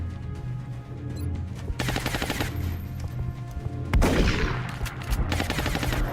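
Shotgun blasts in the XCOM Long War video game, several sharp loud reports cutting through a steady background with music-like tones, the strongest blast near the middle followed by a decaying rumble.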